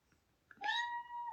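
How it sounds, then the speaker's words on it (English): A large, heavy 21-pound house cat gives a single drawn-out meow, close and clear against a quiet room, rising briefly and then holding steady for under a second. "So that's our cat."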